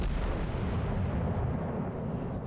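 Heavy naval gunfire in a battleship combat video game, a dense continuous rumble of booming shell salvos and blasts, loud and close with no speech.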